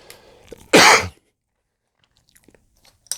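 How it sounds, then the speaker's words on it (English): One sharp, close cough bursts out, followed by near silence and a few faint small clicks. "I'm sorry for coughing into the microphone"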